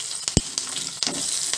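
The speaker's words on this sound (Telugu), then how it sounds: "ఇప్పుడు కరివేపాకు కూడా వేసి వేయించుకుందాము" Curry leaves frying with garlic and dried chillies in a hot-oil tempering for an Andhra okra chutney: a steady close sizzle broken by a few sharp pops and crackles over a short stretch.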